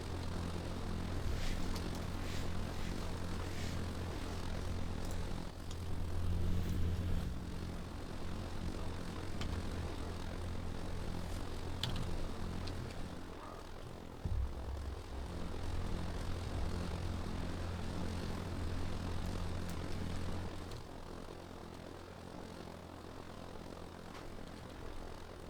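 Propeller aircraft on the runway in the video game ARMA 3, a steady low engine drone with a broadband roar that swells slightly mid-way and holds fairly loud throughout, with no talking.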